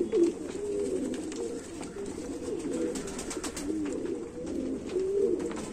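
Prized black fancy pigeons in Jammu coo softly and continuously on an overcast evening, a low, rolling murmur of overlapping calls at moderate distance, with no voices present.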